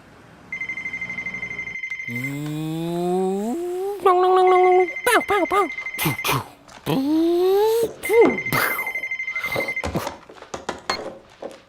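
A telephone rings in bursts of electronic trilling, heard three times and fairly close. Voices talk in the gaps between the rings and over them.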